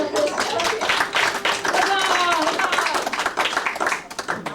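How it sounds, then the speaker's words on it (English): A theatre cast and audience clap at a 2012 stage rehearsal, brisk, busy applause mixed with voices and cheering that thins out near the end. "please give another round of applause"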